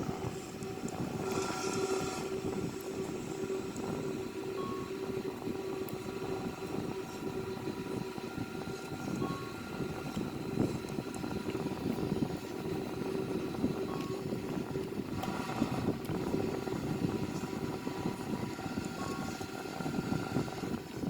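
An Airbus A340-313X taxis on the ground, heard as a steady low engine rumble and whine with constant drone and faint higher tones throughout, continuous and without speech.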